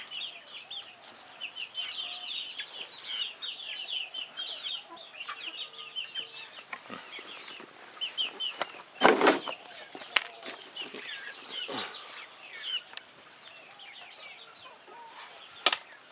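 Free-range native Thai chickens cluck in short repeated bursts, scattered and fairly faint, with a sharper flutter or squawk partway through.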